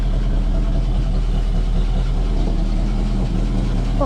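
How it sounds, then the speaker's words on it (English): A 1968 Ford Mustang engine idles after twenty years parked, a steady, loud low rumble holding constant throughout without pauses. "I haven't heard my car run in 20 years. Boy, she sounds good, too."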